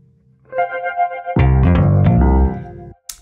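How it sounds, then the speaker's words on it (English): A synth pad with chorus and a deep, soft tremolo sustains a pulsing chord that swells louder midway, then cuts off, for game music. "the tremolo depth is quite high here to make it a very pronounced effect."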